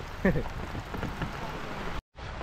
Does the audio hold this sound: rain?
yes